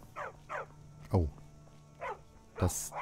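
A dog in Skyrim barks several times in short, sharp yelps with a few deeper woofs, fairly close. Other game sounds continue underneath.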